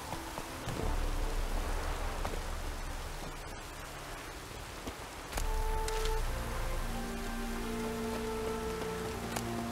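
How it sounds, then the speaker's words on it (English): Steady rain pours in The Witcher 3 game world, a constant hiss of drops on surfaces filling the scene, joined later by a soft sustained musical tone underneath, with no talking. "It just rains and rains."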